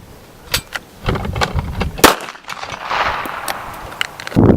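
Sharp gunshot cracks ring out at a defensive shooting training range during discretionary shooting drills, several irregular reports, some in quick pairs, mixed with clanks and a rising background rush.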